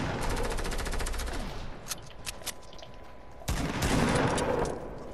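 Rapid automatic gunfire from the Fortnite video game, loud bursts of repeated shots at the start and again near the end, with scattered single shots between.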